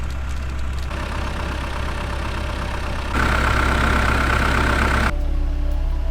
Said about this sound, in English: Got a guy on a motorcycle there waiting.